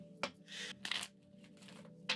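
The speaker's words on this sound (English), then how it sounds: "shuffle a little bit and clear out the energy" Tarot cards shuffled by hand, a few quiet riffling and flicking bursts spaced unevenly over a faint steady background hum, without any speech.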